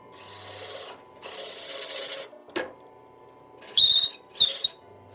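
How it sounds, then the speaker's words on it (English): A plug cutter bores small 3/8-inch wooden inlay plugs from a board for a Korean Nyout game set, giving two long grinding passes, then a short scrape and two sharper high-pitched bursts, close up and with no talk. "I bought a set of plug cutters to make the inlay a little bit easier"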